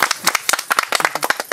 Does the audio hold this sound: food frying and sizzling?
no